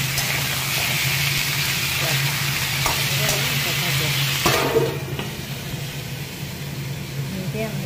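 Washed chicken pieces fry with onions in a pan while being stirred, giving a steady loud sizzle with scraping stir sounds; a voice talks over it, and the sizzle drops noticeably partway through.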